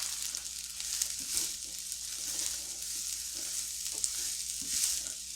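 Onions and peppers fry alongside browning potatoes in a pan, giving a soft, even sizzle with occasional light stirring taps and no talking.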